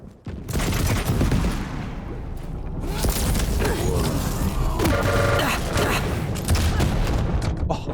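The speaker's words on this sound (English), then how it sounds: "Oh, nice shotgun." Shotgun blasts in a fast arena shooter match, with the railgun also in use, booming through continuous close gunfire and explosions that run for the whole stretch.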